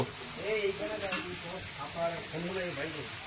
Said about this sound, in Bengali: কড়াইয়ে তেল দিয়ে পেঁয়াজ বাটা দিয়ে দিচ্ছি